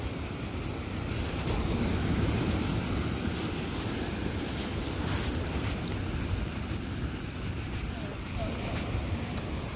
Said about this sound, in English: Big waves starting to come in.